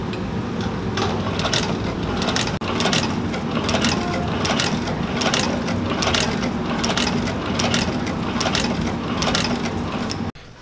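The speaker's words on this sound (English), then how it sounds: "I don't have one, so I gotta use a patching machine." A patching machine stitches a leather boot, making a continuous rapid mechanical clatter of needle strokes with repeated sharp clicks, steady and close for about ten seconds.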